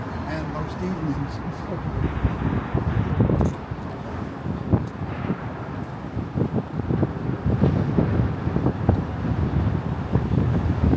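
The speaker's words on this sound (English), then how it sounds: "It does get windy down here" Wind gusts buffet the microphone on a downtown New York City street on a very windy day, a rough rushing roar with muffled voices and street noise underneath.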